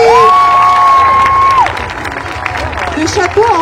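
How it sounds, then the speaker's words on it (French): A crowd at a fantasy festival cheers and applauds a cosplayer, loud whoops and a high sustained shout over a busy wash of clapping and chatter close by. "on l'applaudit"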